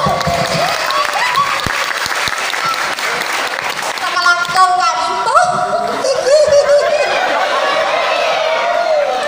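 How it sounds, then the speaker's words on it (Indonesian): Audience applause at an Islamic religious gathering led by a habib, a loud, sustained burst of clapping from a crowd with some cheering and voices mixed in throughout. "Tepuk tangan."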